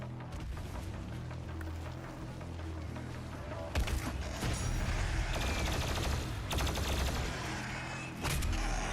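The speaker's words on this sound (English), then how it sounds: "Classic fucking plasma gun." Rapid energy-weapon fire from a plasma gun in the PC shooter Doom Eternal, a loud continuous burst of sharp shots over heavy game music and combat noise, with brief louder blasts partway through.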